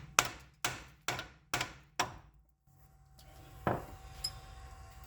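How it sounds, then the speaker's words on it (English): Hammer striking the end of a seized strut bolt on a Kia Sorento: five sharp metallic blows in an even rhythm, then a pause and a single further strike, all close and loud. "I was aware about hitting the end of this bolt to not damage the threads."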